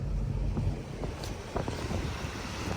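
A 36-foot Avanti speedboat with triple 400R outboards accelerating on open water, a steady loud engine and hull rush mixed with heavy wind buffeting on the microphone throughout.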